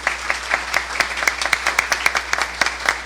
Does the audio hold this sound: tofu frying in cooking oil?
no